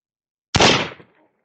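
A single loud gunshot from a Confederate engraved brass revolver, a sharp crack with a quick, fading tail, heard alone against silence.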